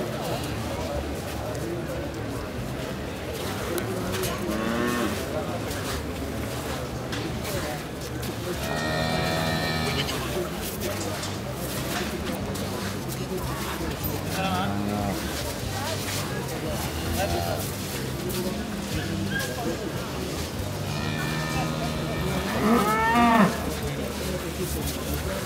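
Young cows at a cattle show moo a few times, moderately loud, among steady crowd noise while a Czech announcer speaks over a PA during the awards.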